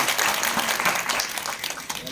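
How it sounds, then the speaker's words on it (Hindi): A hall audience at a block-level government programme gives itself a round of applause, dense continuous clapping filling a short stretch, with speech faintly mixed in. "तो एक तालियां अपने लिए बजा लीजिए।"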